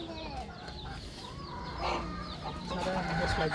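Chickens clucking at feeding time as grain is scattered for them, a busy flock of overlapping clucks and squawks at moderate distance, with an occasional crow-like call rising near the end.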